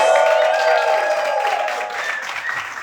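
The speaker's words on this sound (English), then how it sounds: "Give us a round of applause." An audience claps and applauds loudly and continuously, fading slightly toward the end.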